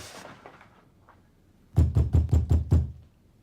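Six firm, evenly spaced knocks on a door in an Ottoman palace drama, loud and close and following a brief faint murmur.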